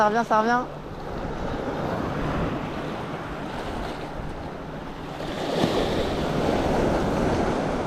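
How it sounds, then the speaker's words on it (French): Strong wind buffets the microphone beside the sea off Corsica during jig fishing, a steady roaring rush with waves underneath, continuous and loud throughout after a brief voice at the start. "Ouais, il y a trop de vent."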